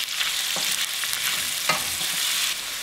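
Chopped onions frying in a soup pot for barley soup, a bright steady sizzle with a few soft stirring knocks, close and continuous, no talk.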